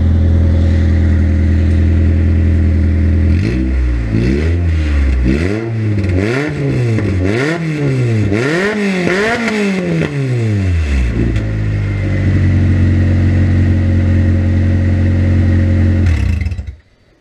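A warmed-up Honda Civic engine being readied for a turbo build idles, then revs in a series of rising and falling pulls before settling back to idle and cutting off. It is loud, close and heard from beneath the car.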